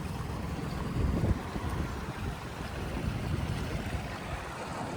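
A Carolina Skiff 16 outboard motor idles on open water, a low steady rumble heavily mixed with gusting wind noise, with no talking over it.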